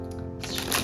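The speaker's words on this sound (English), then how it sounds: "I already shuffled, but I'm gonna shuffle again." Oracle cards are shuffled by hand in a quiet room, a brief soft riffle of card edges that swells into a denser flutter in the final half second, close and alone.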